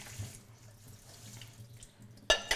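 Quinoa rinsed in a strainer under a running kitchen tap, a steady hiss of flowing water with a louder surge of splashing near the end.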